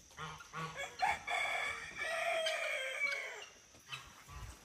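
Guinea fowl on a muddy farm give harsh, repeated chattering calls in a series of close, loud bursts with short gaps, the calls stacking into a busy, continuous stretch in the middle before trailing off.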